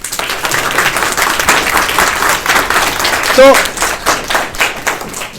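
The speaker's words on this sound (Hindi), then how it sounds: "big round of applause for our land, है ना, ताली होनी चाहिए ना" Applause and clapping from an audience at a patriotic talk in Haryana or Himachal, a steady patter of hands lasting several seconds at moderate loudness, with a voice briefly audible over it.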